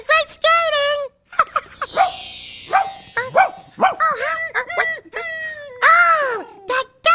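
A cartoon dog character yips and barks in short, loud, high bursts, mixed with whimpering, playful cries and voices across the span.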